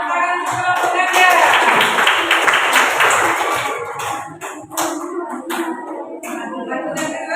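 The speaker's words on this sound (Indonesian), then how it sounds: "Berikan tepuk tangan untuk kelompok Anda" Classroom students clap for their group during a lesson, several scattered hand claps heard close by along with children's voices and some tapping.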